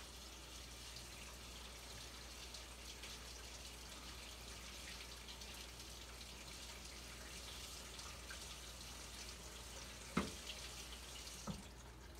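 Kidney beans being rinsed in a small strainer under a running kitchen tap: a steady, continuous stream of water splashing and draining, with a couple of brief clanks near the end.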